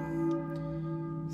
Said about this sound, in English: See, now here because I hear a church bell.